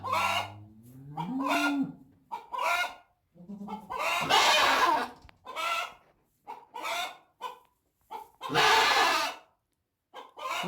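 A hen in a barn with goats and other livestock clucks and calls in a string of short, loud bursts and longer drawn-out squawks, with quiet gaps between them.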